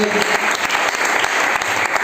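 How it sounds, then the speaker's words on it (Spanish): A church congregation claps loudly and continuously in praise of the Lord during a sermon, forming a dense, bright wall of applause with sharp individual claps throughout. "Fuertes aplausos para el Señor"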